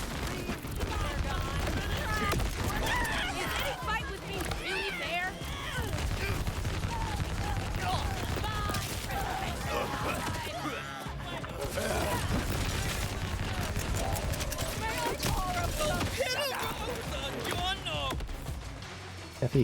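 SMG gunfire in Borderlands 4, rapid bursts of shots mixed with explosions and chaotic combat effects, with voices talking over the fighting.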